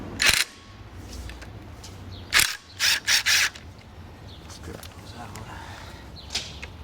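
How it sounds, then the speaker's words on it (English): Screws being worked out of a cover on a vintage Honda motorcycle during a chain replacement, with several sharp ratcheting clicks and short mechanical bursts close by, separated by quieter gaps. "Let's just take some of these screws out"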